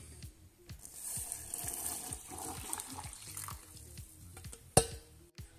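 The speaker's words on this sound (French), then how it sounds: "Et on va venir verser notre eau dans" Hot water, heated in a Thermomix TM6 on its kettle setting, is poured into an infuser with a soft, steady trickle and gurgle, and a brief sharp clink near the end.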